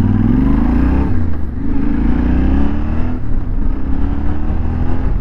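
Yamaha Tenere 700 motorcycle accelerating, a loud, close engine drone rising in pitch, dipping briefly at a gear change, then climbing again.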